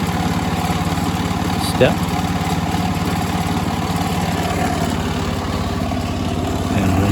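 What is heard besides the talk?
snowblower engine running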